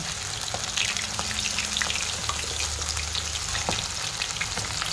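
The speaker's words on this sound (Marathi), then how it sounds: "तेल गरम झालंय आता आपण तेलात टाकून घेऊ" Lollipops dropped into hot oil during the rainy season, giving a dense, crackling deep-fry sizzle that stays constant and close, with faint scattered pops and no talking.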